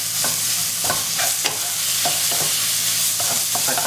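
Minced pork stir-fried with garlic in a hot pan, a steady loud sizzle with repeated scraping stirs of the spatula, close up and with no talking.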